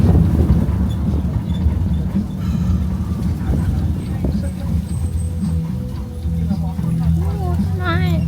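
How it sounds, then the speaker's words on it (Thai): Strong wind buffets the microphone on a fast-moving boat with a constant low roar, under steady engine rumble and people talking nearby. "ใช่รถวิ่งเร็ว ลมก็เลยแรงเลย"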